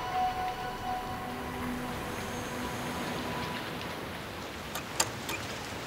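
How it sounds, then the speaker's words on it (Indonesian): Rain falls outside as a soft, even patter. It is faint and steady throughout, with a few light ticks near the end and no voices. "Lihat di luar sedang hujan."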